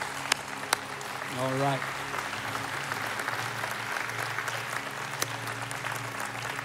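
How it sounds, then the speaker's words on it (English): Church congregation clapping in praise on Christmas Eve, a broad wash of many hands in a large room, with a voice speaking briefly over it and a few sharper claps standing out. "Let's give the Lord a hand clap of praise."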